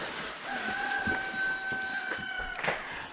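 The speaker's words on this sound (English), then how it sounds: "Sorry about the rooster." Rooster crowing in one long sustained call that rises and holds steady, moderately near, followed by a short squawk at the end, with no talk over it.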